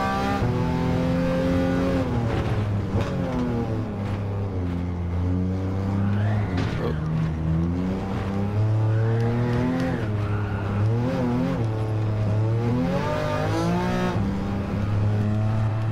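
A Porsche-engined Volkswagen Beetle racing at the Nürburgring in Gran Turismo 7, its engine droning steadily and rising in pitch as it accelerates, with tires squealing through a slide around a corner, loud and continuous with no talking.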